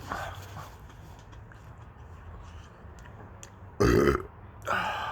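A loud, close belch from a person after eating habanero peppers, with a second rougher burp moments later over quiet background noise.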